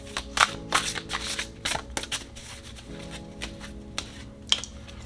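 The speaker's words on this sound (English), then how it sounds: "So let's go ahead and shuffle" Tarot cards being shuffled by hand, a repeated run of crisp riffling and slapping bursts with brief pauses, close and moderately loud, with no talking.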